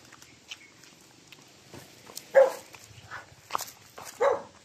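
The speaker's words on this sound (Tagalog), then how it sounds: "May aso." A dog barks a few times in short, separate bursts at a moderate distance, with quiet background and no talking over it.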